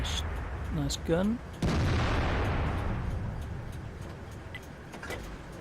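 A tank gun fires in World of Tanks, a German tier VIII tank destroyer shooting on the move, with one sharp loud boom that decays into a long rumbling tail over low engine noise.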